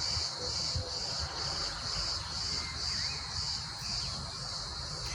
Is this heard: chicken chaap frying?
no